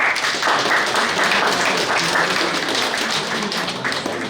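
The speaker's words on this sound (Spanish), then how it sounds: "Regalamos un fuerte aplauso al profesor." Strong applause for a teacher at a Virgen de las Mercedes festival gathering in Upiro, Grau, Apurímac, a dense, steady clatter of many hands clapping close by without pause.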